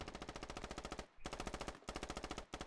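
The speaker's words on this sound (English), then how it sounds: "Now that's the mortars you want to have." Rapid, evenly spaced bursts of artillery-style fire in a competitive team strategy video game match, repeating loudly in steady volleys with two brief pauses and no talk.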